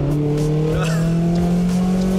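Toyota MR2 engine holding a loud, steady tonal drone while driving, with a faint brief tire noise partway through.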